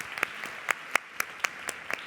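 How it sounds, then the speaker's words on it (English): Hands clap in an evenly spaced rhythm, about four crisp claps a second, sounding like a small, sparse round of applause from an event audience rather than a full crowd. "Can we give her a round of applause for that?"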